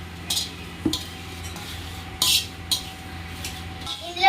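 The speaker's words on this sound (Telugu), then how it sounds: "ఇప్పుడు మనం ఈ అటుకుల్ని వేయించడానికి వేసేద్దాము." Poha (flattened rice) goes into a pan for frying in a home kitchen. The clip is a quiet stretch with a few scattered metallic clinks and scrapes of a utensil against the pan, with a faint low hum underneath.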